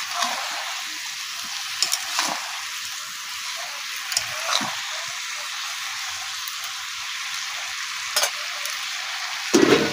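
Mixed vegetables fry in a pan with a steady, even sizzle, broken by a few sharp clicks and scrapes as a utensil stirs them.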